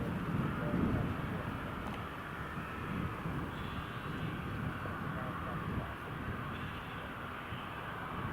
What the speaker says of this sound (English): that BizJet is just approaching the holding point